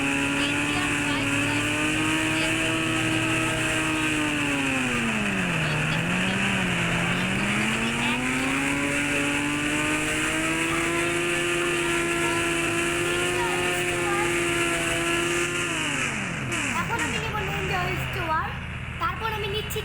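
The motorbike engine in the Indian Bike Driving video game drones continuously, its pitch dipping and rising as it revs and then falling off sharply near the end.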